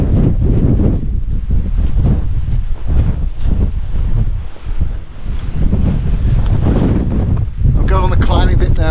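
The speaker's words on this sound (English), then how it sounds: "except for this wind." Strong wind roars and buffets the microphone without a break on an exposed fell ridge walk in the Newlands area of the Lake District, loud and close, with a voice talking faintly beneath it.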